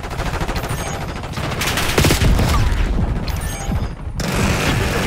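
Gunfire in Call of Duty Black Ops 6 multiplayer, loud sustained automatic bursts with heavy booming impacts, briefly cutting out before resuming.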